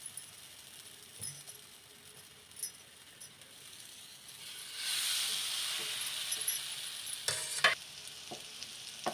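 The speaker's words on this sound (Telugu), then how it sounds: "బ్రెడ్ స్లైసెస్ కూడా అన్నీ ఇలాగే బ్యాటర్లో పెట్టేసి ఫ్రై చేసేసుకోవడమే" Batter-coated bread slices fry in hot oil for bread pakora, a soft continuous sizzle that swells midway into a louder hiss, with occasional clinks and stirring clatter and no talking.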